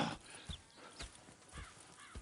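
Horses in Red Dead Redemption 2, with a few hoof clops and soft snorting or whinny-like sounds spread across a brief, fairly quiet stretch, with no talking.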